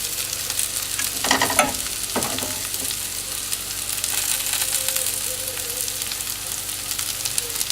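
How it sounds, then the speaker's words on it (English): Vegetables fry in a pan while being stirred for a Pork Marsala dish, a steady close sizzle with a few louder scraping stirs early on and a continuous crackle throughout. "Now you hear our vegetables cooking over here. I'm just going to give them a light stir."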